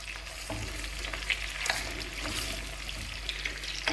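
Chopped green onions frying in hot oil in a pan for a traditional Algerian bean dish: a steady, close crackling sizzle with occasional stirring scrapes, and no voices.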